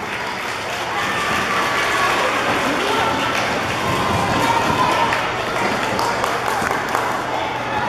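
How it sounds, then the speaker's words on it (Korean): Applause from the audience at a Korean school's Lunar New Year celebration in Atlanta, welcoming a gayageum performer. A dense crowd clapping fills the room at steady volume for several seconds, and voices murmur underneath. "우리 큰 박수로 선생님 맞이해 주세요."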